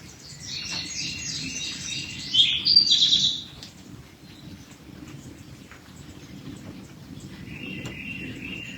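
Bright bird chirps and twittering phrases ring out over a steady outdoor hush in summer, as raindrops fall from the trees, strongest in one brief burst and then softer, intermittent calls.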